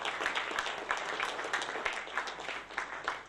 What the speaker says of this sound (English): Please put your hands together.